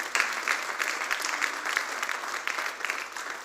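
A church congregation claps for about three and a half seconds, dense and continuous applause with a few louder bursts, moderately distant and with no talking over it.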